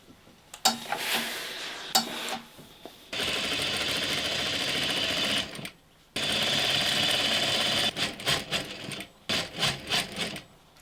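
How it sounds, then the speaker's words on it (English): A sewing machine runs a long stitching seam joining a shirt side seam and sleeve side seam for a Halloween costume, its steady motor whir broken by short pauses and stop-start bursts near the end. "put right sides together, the side seam of the shirt and the side seam of the sleeve, and sew that as one long stretch"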